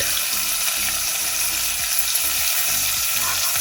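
Green chilies, masala and finely chopped tomato fry in hot oil for a Goan dish, giving a steady, close sizzle with light stirring scrapes and no talking.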